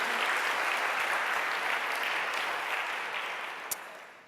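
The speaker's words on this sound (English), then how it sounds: "A round of applause." An audience at a tech conference talk gives sustained applause, an even, dense wash of clapping that fades gradually over four seconds, with one sharp click near the end.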